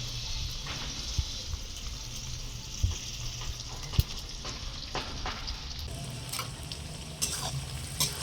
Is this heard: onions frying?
yes